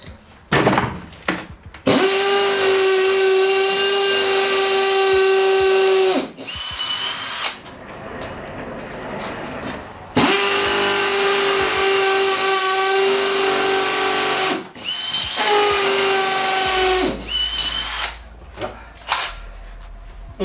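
A cordless power drill bores small holes in bursts, each run a steady high whine lasting several seconds with brief pauses and clicks between them, loud and close, while the garage is being fitted out.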